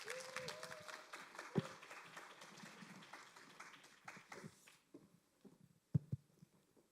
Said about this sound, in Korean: 네, 큰 박수로 맞아주시길 바라겠습니다.